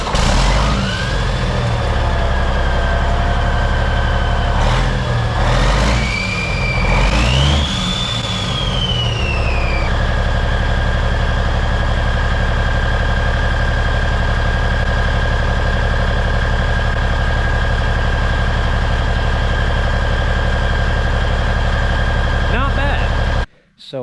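A Kenworth T800 truck engine running with its silencer removed, a loud, steady, deep idle rumble carrying on throughout, with a rising whine and a few revving bursts in the first ten seconds before it settles.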